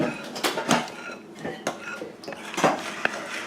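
Cinnamon roll ingredients, including warm milk, being mixed in a bowl: close, uneven clinks and scrapes of a utensil against the bowl in quick irregular strokes.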